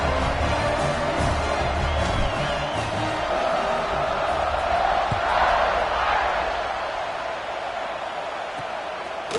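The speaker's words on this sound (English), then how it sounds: "this crowd is buzzing after that last score" Stadium crowd buzzing in a college football video game, Virginia Tech versus Notre Dame, a loud continuous roar that swells midway then eases slightly, with commentary faintly mixed in.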